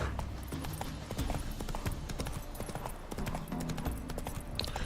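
Hoofbeats of Roach, the horse in the Witcher 3 video game, clip-clopping in a steady trotting rhythm over game music and ambience, moderately loud and close throughout.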